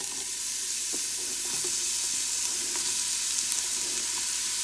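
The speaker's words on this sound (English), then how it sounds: "we're gonna cook the onions until they're nice and translucent before we add any other ingredients" Onions frying in about a tablespoon of oil in a pot, a continuous close hiss of sizzling with faint occasional crackles and light knocks, steady throughout with no voices.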